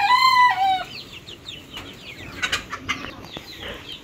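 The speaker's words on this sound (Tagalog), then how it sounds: "si Kuya Tilat po ay nagpapakain po ng manok." A rooster crows loudly at the start, followed by soft clucking, wing flaps and pecking sounds of hens nearby as the chickens are fed.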